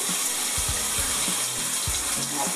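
Shower water running steadily in a home bathroom, a continuous wash of spray close by with a few faint low thumps and knocks over it.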